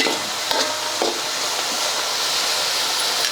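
Chopped tomatoes and onions sizzle steadily in a hot pan, a continuous close frying hiss with a few brief stirring scrapes and no talking.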